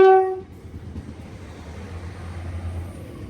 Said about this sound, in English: So now folks, we're just going to get on the train.